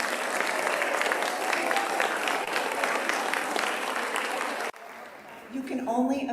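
An audience applauds at a college celebration for Northwest Vista College, a loud sustained burst of clapping that cuts off abruptly into a quieter room where a voice begins speaking.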